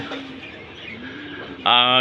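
Soft background voice and faint bird sounds, then a loud, close coo from a Giribaj pigeon rises sharply at the end.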